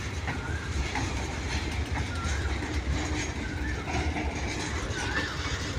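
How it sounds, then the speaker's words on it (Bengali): A train passes through jungle with a steady, close rumble of rolling wagons that holds at an even loudness throughout. "দেখো গাইস, ট্রেন যাচ্ছে।"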